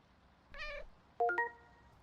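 Cartoonish cat meows from the video game Pets Hotel during a feather-on-a-stick play session: one drawn-out meow, then a pair of short chirpy meows with bright tonal game chimes, close and clear with no talking.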